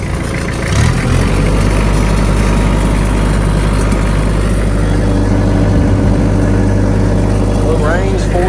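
A tractor engine idles steadily with a loud, constant low rumble throughout, and a person talks over it.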